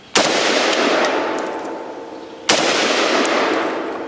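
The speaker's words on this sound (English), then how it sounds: "I'm going to shoot that big old tank over there," Two loud, close FN FAL rifle shots fired outdoors at a hanging propane tank, each a sharp crack followed by a long ringing decay, spaced about two seconds apart.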